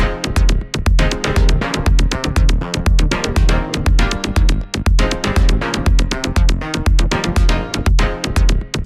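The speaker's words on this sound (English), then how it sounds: "So like a very unrefined drop loop for now." An electronic dance music drop loop plays loud and dense, its synths and layers ducking rhythmically under a pounding four-on-the-floor kick through sidechain compression, alone with no talk.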